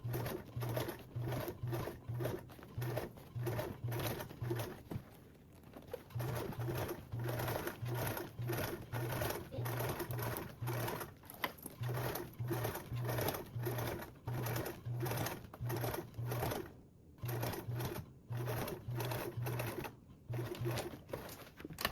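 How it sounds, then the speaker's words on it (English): A sewing machine stitches a second row on a duffle bag in rapid rhythmic bursts, pausing briefly between runs, close and steady. "you want to go back and do your second row of stitches"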